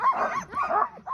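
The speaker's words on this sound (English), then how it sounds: "getting the dogs ready, barking, jumping around with excitement" Several excited sled dogs barking and yipping in repeated overlapping bursts, close and loud, as the team is readied for a winter run, with whimpering between the barks.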